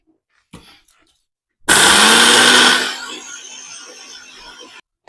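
A kitchen mixer grinder whirs loudly as it grinds roasted fenugreek seeds into powder, a steady motor roar that softens after about a second and runs on until it stops abruptly, preceded by faint handling clicks.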